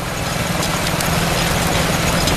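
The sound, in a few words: engine running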